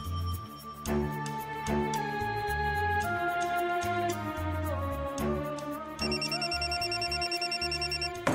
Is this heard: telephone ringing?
yes